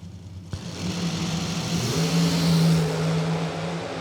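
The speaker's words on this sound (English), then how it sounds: "You can hear the throttle work as they made their way down the racetrack" Drag racing cars at the Fall Fling Galot accelerating down the racetrack, a sharp launch followed by a loud, rising engine drone with throttle changes, heard from a distance with no voices.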